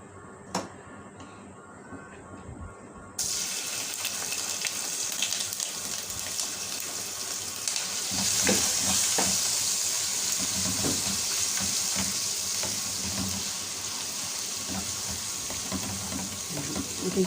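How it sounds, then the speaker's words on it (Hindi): Garlic ginger paste hits hot ghee: after a few quiet seconds a steady hissing sizzle bursts in and continues, swelling slightly midway, with faint crackles nearby. "इस घी में डालते हैं लहसुन अदरक का पेस्ट"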